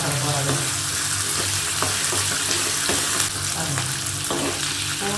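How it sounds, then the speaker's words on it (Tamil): Garlic and small shallots frying in a pan for a spicy garlic-shallot kara kuzhambu, a steady close sizzle with occasional stirring scrapes and no talk. "பூண்டு, சின்ன வெங்காயம் எல்லாம் நல்லா ஒரு செகண்ட் நல்லா வதங்கிடுத்து"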